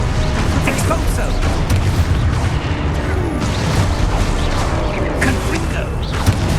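An Expulso blasting spell goes off in Hogwarts Legacy amid a dense, continuous wash of booming blasts, crashes and clattering effects, loud and close, with voice-like sounds mixed into the din.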